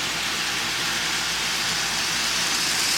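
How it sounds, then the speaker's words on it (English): A model Christmas train runs on a holiday town layout, giving a steady, even whirring rumble that holds at a constant level throughout, with no talking. "There's the Christmas train."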